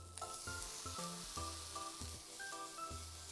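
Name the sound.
bacon and tomato sizzling in a frying pan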